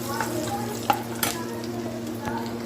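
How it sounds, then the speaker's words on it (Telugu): Red chili powder and slit green chilies with salt fry in a pan, giving a steady close sizzle with a few brief stirring scrapes. "ఇది ఇలా ఫ్రై అవుతుంది చూసారా"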